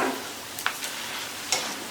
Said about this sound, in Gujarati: આ પૌવા તળો ત્યારે ગેસની આંચ ફૂલ જ રાખવાની છે